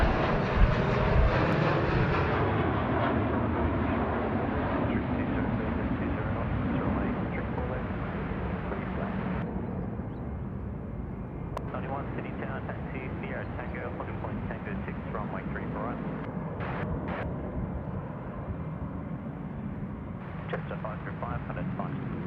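Airliner departing Sydney Airport for Melbourne, a steady broad jet roar throughout, loud and sustained, with a person speaking over it.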